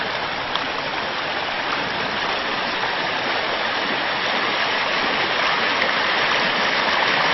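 Water flowing steadily in a partly frozen creek in cold weather, making a continuous, close, loud rushing and splashing sound that barely changes throughout, with no voices.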